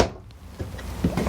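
A drawer in a 2014 Keystone Bullet 248 RKS travel trailer slides and bumps shut, giving a few soft close knocks and rattles in a quiet interior.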